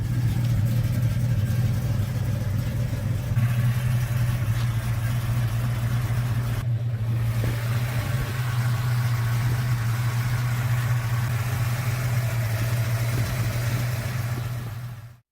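A 1969 Plymouth Roadrunner with a Hemi V8 runs close by, a loud, steady rumbling idle with a deep low throb and occasional swells in engine pitch, continuing for the whole stretch before cutting off abruptly at the end.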